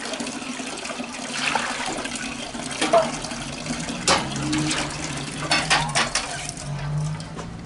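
Large green onions being washed by hand in a basin of water, with sloshing, splashes and light clatter of the bowl, moderately close and unsteady.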